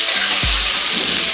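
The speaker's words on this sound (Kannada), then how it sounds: "ಈ ರೀತಿ ಸೊಪ್ಪನ್ನ ಹಾಕ್ಕೊಂಡು ಇದನ್ನು ಎಣ್ಣೆನಲ್ಲೇ ಫ್ರೈ ಮಾಡ್ಕೋಬೇಕು" Fenugreek leaves fry in hot oil in a pan, giving a steady close sizzle with soft stirring scrapes and a couple of low thumps, no voices.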